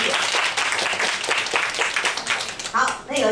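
Audience applause at a university science outreach event, a dense, steady wash of clapping from a crowd welcoming first-time visitors, lasting the whole moment with some voices mixed in.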